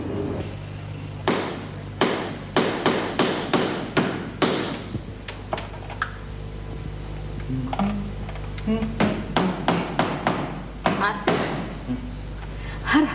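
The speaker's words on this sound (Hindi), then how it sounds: "हर हथौड़ी की आवाज सलमा के कलेजे पे हथौड़ा बन के लग रही होगी" Hammering at a goat market in a Pakistani drama scene: repeated sharp knocks and thuds in uneven bursts, moderately close, with talk in between and a low steady hum underneath.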